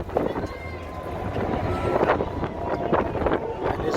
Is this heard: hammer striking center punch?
no